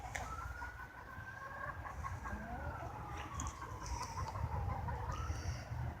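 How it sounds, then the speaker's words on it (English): Molting backyard chickens cluck and give drawn-out, rising-and-falling calls at close range, one sustained call standing out over soft scattered clucks and low outdoor noise, with no talk. "Just wanted to let you guys know that my chickens are molting."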